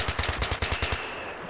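An L85A2 assault rifle in Battlefield 3, fired in a rapid manual burst of about ten close, evenly spaced shots that stop abruptly, leaving a fading ring.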